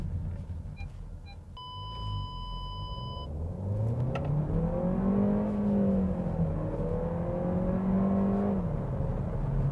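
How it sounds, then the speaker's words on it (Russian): Skoda Karoq with a 1.5-litre four-cylinder engine accelerating, a steady mid-pitched drone rising and falling in pitch as it pulls, heard from inside the car with a brief electronic chime early on. "4-цилиндровый двигатель, но, блин, он, во-первых, не шумный."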